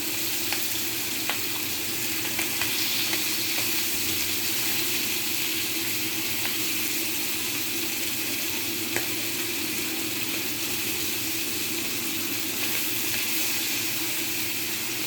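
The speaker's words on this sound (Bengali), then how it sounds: "মাছগুলি খুব বেশি ভাজবো না, অল্প অল্প আছে ভাজতেছি" Tengra fish sizzle and crackle steadily in hot oil in a pan, a continuous close frying hiss with small pops and occasional clinks of stirring, and no talk.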